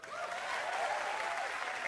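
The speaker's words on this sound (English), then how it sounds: "Clap if you use Craigslist." A stand-up comedy audience claps steadily in a dense, even burst of applause that fills the room and holds at a constant level with no voice over it.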